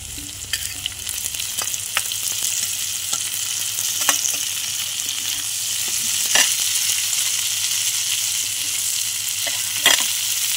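Country okra fries in a pan with a steady close sizzle, punctuated by scraping spoon strokes and sharp clinks as it is stirred, with no talking.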